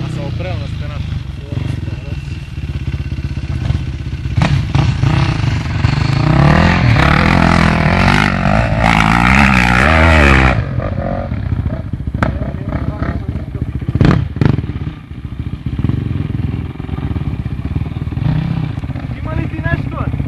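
An off-road motorcycle engine at a copper mine near Vratsa rumbles loudly and steadily, swelling in the middle before dropping back to a lower idle, with clatter and voices around it.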